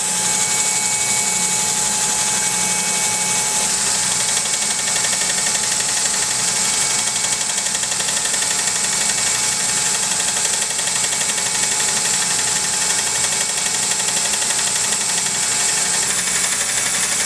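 A cutter grinder working slowly on a roughing endmill gives a loud, unbroken grinding whine over a constant machine drone, steady throughout with no pauses or voices.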